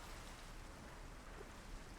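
Rain falls in modded Minecraft, a steady, even hiss of soft patter throughout, faint and continuous with no talk.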